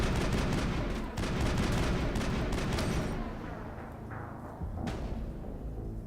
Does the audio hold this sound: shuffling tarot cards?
no